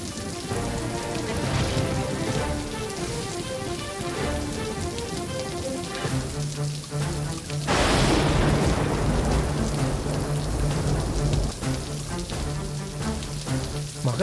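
Heavy rain pours down steadily and loudly throughout, with a deep rumble of thunder rolling in partway through and continuing beneath the downpour.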